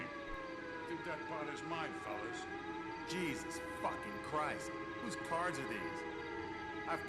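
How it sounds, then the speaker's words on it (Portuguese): A siren wails with rising and falling tones in the video game L.A. Noire, steady at moderate loudness under other game sounds and voices. "Que sirene é essa?"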